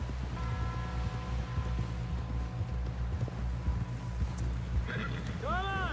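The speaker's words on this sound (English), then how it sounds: "Someone help John down off this horse" Horse hooves clip-clop at a steady pace in Red Dead Redemption 2, a low rhythmic plodding under continuous game ambience and music, with voices talking over it.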